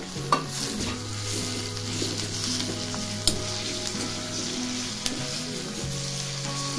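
Mashed eggplant and onion for Vangyache Bharit sauté in a pan, a steady loud sizzle with scraping stirs and a few sharp clanks of the spoon against the pan, no voices.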